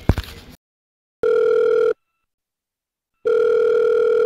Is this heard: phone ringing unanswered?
yes